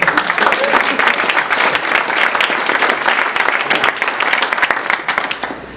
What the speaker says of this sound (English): we want a round of applause for Kate